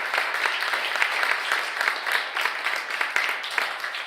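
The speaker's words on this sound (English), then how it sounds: "we need to give a big round of applause to all of our speakers again tonight" An audience at a female athlete summit applauds the evening's speakers, a dense, fairly loud wash of clapping with slightly pulsing intensity that continues unbroken.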